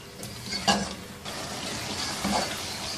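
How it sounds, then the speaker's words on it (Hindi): Marinated chicken frying in a pan with spices, a moderate steady sizzle broken by two brief louder bursts of stirring or clatter. "तकरीबन 4-5 मिनट इस चिकन को अच्छी तरह से भून लेंगे।"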